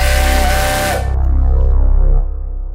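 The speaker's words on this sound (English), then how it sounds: "Steam soon billowed everywhere, and Percy gave a loud wheeze." A steam engine lets off a loud, sustained blast of hissing steam with a whistle-like tone, cutting off after about a second into a lower rumbling wheeze.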